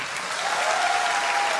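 An audience at a singing contest bursts into dense, sustained applause, many hands clapping together at a steady, fairly loud level.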